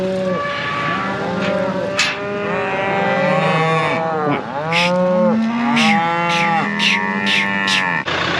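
Cattle and calves in a paddock moo repeatedly, several loud, close, drawn-out calls overlapping one another with little pause, against a steady outdoor background.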